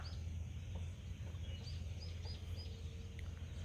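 Chickens settle down to roost for the night, giving faint, scattered chirps and short calls against a constant low hum in the background.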